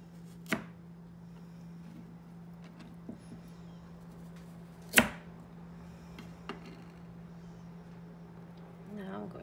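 A knife cuts the ends off a washed carrot on a board, two or three sharp chopping taps spaced apart, the loudest near the middle, over a steady low hum and quiet room tone.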